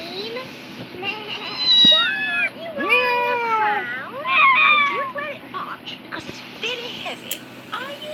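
A pet cat meows several times in a row, with short, wavering cries close by, over a low hum and some background noise.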